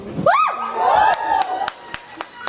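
A crowd cheers and shrieks loudly, led by a rising high-pitched scream, then the noise fades into scattered whoops and claps.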